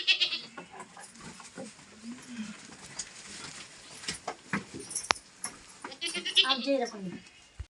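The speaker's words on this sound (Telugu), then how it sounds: "ఇక మేకలు చూడండి ఎటు ఎటు కొట్టాలో చెప్పు నాకు" Goats on a village farm bleat in short bursts near and far, mixed with scuffling and handling noise, while people talk over them throughout.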